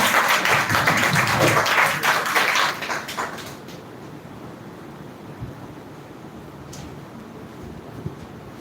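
Audience applause for a speaker at an English-speaking competition semi-final, a loud dense burst of clapping for about three seconds that fades into quiet room noise.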